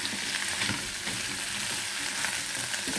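Large shrimp cooking in garlic butter in a pan, a loud continuous hiss and sizzle close by, with faint stirring scrapes beneath.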